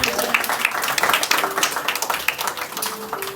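A church congregation applauds for Cassandra during a sermon, with bright, rapid clapping filling the room steadily and voices faintly mixed in beneath.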